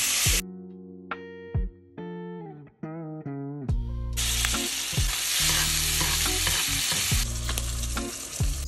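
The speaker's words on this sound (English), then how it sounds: "Once our pan is lightly smoking, add in our salmon, skin down." Salmon fillet frying skin-side down with butter and lemon slices in a hot, lightly smoking pan: a loud, steady sizzle with crackling spits, preceded by a few short tonal electronic beeps, no voices.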